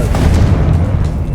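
A Confringo spell blast booms in the Hogwarts Legacy video game, a short, loud, dense rumble with a heavy low-end thud and no voices over it.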